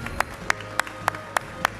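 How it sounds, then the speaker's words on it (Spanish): Audience applause for an award recipient at an Argentine football alumni awards ceremony: a handful of sharp, evenly spaced claps stand out over a steady murmuring background. "Fuerte aplauso"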